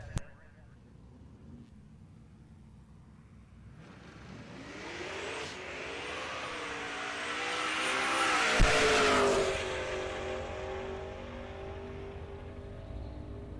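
A 2002 Camaro Z28 leaves the line at a drag strip, engine revving up through its gears and peaking loud before fading down the track, with an announcer speaking throughout.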